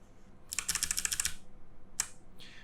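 Rapid clacky keystrokes on a small homemade 30% keyboard with a 3D-pen-built case, a quick burst of a dozen or so presses followed by two isolated taps, close and crisp with no talking.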